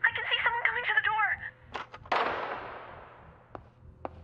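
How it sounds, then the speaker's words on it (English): A single gunshot rings out in the video game Killer Frequency, a sharp blast with a fading tail, following game voices talking and a few knocks. "Sounds like she got shot."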